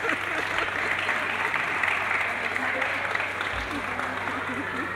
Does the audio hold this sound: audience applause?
yes